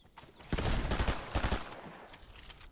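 Rapid gunfire in Fortnite Zero Build, a burst of several close, punchy shots in quick succession followed by a second volley, then fading, with no talking.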